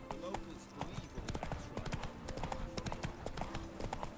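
Geralt's horse Roach in The Witcher 3: Blood and Wine, hooves clip-clopping in a steady trotting rhythm, fairly faint, with someone talking over it throughout.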